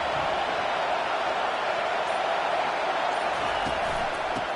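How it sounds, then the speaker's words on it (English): A stadium crowd in a Madden football game roars in a steady, dense wash of cheering and noise that holds evenly throughout, with no clear breaks. "Listen to this crowd just shaking the girders of this place"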